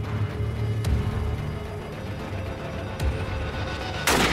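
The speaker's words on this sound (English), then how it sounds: "You shot him!" A gunshot in a TV comedy scene rings out as a sharp, loud crack near the end, standing out over a rumbling low background.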